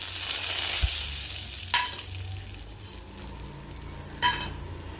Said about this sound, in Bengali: নিম পাতাটা ভাজা ভাজা হবে